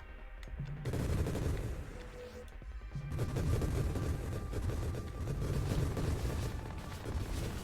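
Rapid grenade volleys from the Fusillade ability in the space shooter Nova Drift, a dense, continuous rumble of overlapping blasts with game music layered over it, sustained and fairly loud across the whole stretch.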